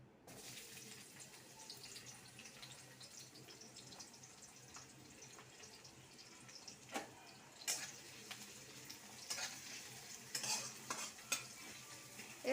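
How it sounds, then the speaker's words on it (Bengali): Chopped onion frying in oil for a pasta dish: a faint, steady sizzle with soft stirring scrapes, growing busier and louder toward the end as the spoon works the pan. "তেলের উপরে পেঁয়াজ কুচিটা দিয়ে দেব।"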